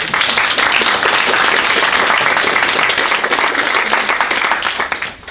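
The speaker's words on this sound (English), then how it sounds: "So please, a round of applause for our founders." Dense crowd applause for startup founders at a comedy performance event, loud continuous clapping that holds steady and then tapers off at the end.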